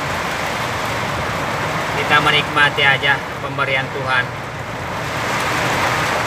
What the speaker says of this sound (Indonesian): Hujan badai turun tiba-tiba.